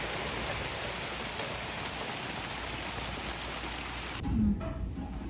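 Steady rain pours down in a dense, continuous hiss, close and loud, with a brief thump near the end.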